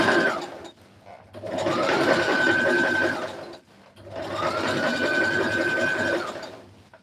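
Serger sewing machine stitching fabric for a short bubu dress, two bursts of rapid, loud mechanical whirring separated by a brief pause, close and without talk.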